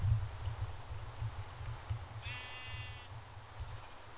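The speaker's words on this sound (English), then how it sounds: "There's a bunch of rainbow sheep in here too." A sheep in a video game gives one short, bright bleat partway through, heard over a low rumbling background.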